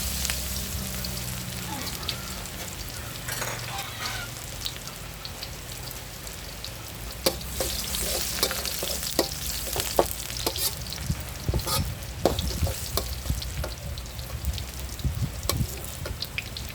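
Garlic sizzles in hot oil in a pan for a spicy wild boar stir-fry, a busy crackling hiss with scattered scraping clicks from stirring that grow more frequent toward the end.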